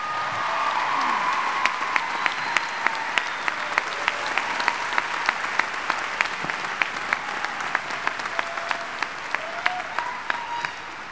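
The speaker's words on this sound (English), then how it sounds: "Let's give them a round of applause." A large audience at an undergraduate commencement ceremony applauds continuously, a dense wash of clapping with sharp individual claps standing out, holding steady for over ten seconds.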